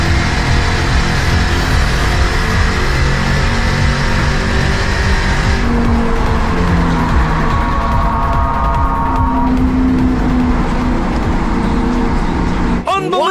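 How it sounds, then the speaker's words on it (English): Race cars roar continuously around a track with Tony Stewart in the field, engines loud and close with shifting pitch, tire squeal and cars passing, and a brief sharp burst near the end. "Comes lap number 78. 2 laps to go for Tony Stewart"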